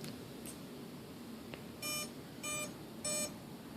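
Three short electronic beep bursts from the ESC of an RC Airbus A380 model as it powers up, evenly spaced and fairly distinct over a low background hiss, with a fainter click earlier.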